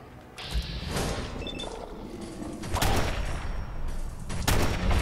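A new weapon in the video game Fallout 4 fires in loud, rapid bursts, the volleys rattling close and sharp with brief pauses between them.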